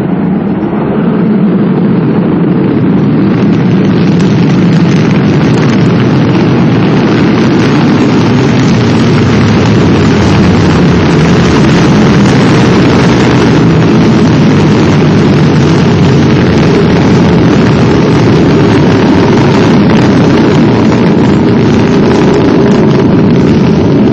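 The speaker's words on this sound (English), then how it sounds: "Allumage des étages, accélération à poudre et décollage." An Ariane 5 ECA rocket ignites and lifts off from Kourou, a loud continuous roaring rumble that holds steady and powerful throughout.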